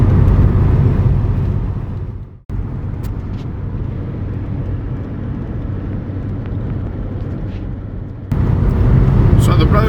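Steady road and engine rumble from a car cruising along Portugal's A13 motorway toward Tomar on a Sunday, continuous and fairly loud, with a brief dropout near the start and talk running over it.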